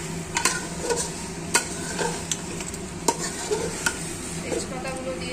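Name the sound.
mutton frying with onions in a pot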